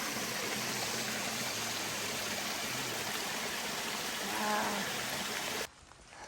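Mountain spring water flowing straight out of a hillside at a trail water source near Unicoi Gap on the Appalachian Trail, a steady close rushing trickle heard alone that cuts off abruptly near the end.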